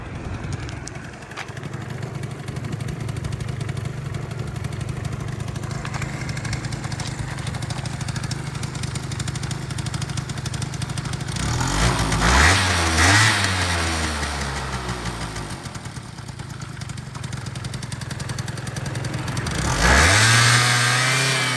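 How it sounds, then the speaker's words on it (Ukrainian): A Honda Dio AF34 two-stroke scooter engine with a carburetor idles steadily, then revs up sharply twice, the pitch rising and falling back to a buzzing idle; close and loud. "двигун працює добре"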